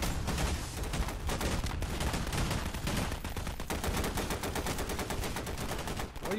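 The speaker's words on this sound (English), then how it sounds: "at least they're still firing at him" Heavy, rapid machine-gun fire from a Half-Life video game battle, with close, loud bursts repeating steadily throughout and no talking.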